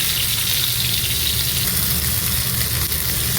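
Fish fries in a pan in a continuous, dense sizzle, steady and fairly loud with no pauses, in a home kitchen with no voices.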